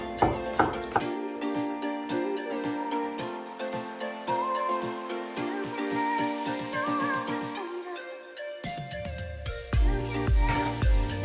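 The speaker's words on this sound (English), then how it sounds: "chop it in small pieces" Knife chopping on a cutting board, a fast run of crisp, evenly spaced taps for several seconds, then a pause and a few heavier thumps, close and clear over background music.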